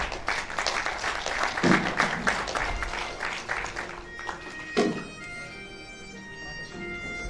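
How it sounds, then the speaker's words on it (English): Audience at a university engineering conference giving applause: a steady wash of clapping over several seconds that thins out toward the end, with a little voice mixed in. "Another round of applause for the Dean Faculty"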